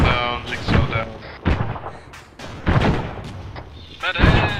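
Several loud booming blasts and sharp impacts from video game combat, including an explosion at a base, with voices talking over them throughout.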